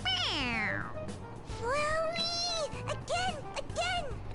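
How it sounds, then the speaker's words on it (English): A stuffed toy cat in a video game gives several drawn-out, close meows in a row, one after another, each squeezed out when its head is pressed, with a faint background hum and no talk. "It meows when you press on its head."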